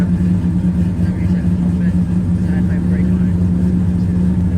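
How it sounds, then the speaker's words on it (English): A 1968 Ford LTD engine idles steadily just after being started for the first time in a while, a loud, even hum that runs without pause from start to finish. "It's been a little bit since we had this car started"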